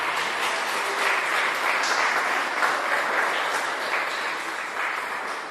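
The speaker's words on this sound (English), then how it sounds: "I want to give us a round of applause to Miss Rose." People at an herbs book presentation applaud Miss Rose in a dense, even round of clapping that holds steady throughout, easing off slightly at the end.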